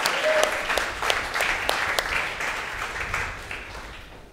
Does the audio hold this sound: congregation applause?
yes